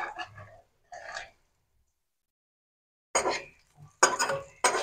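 Garlic, onion and coriander are stirred in a cooking pot of hot oil, giving scattered metallic scrapes and clinks in short bursts separated by silent gaps, close by, with no talking.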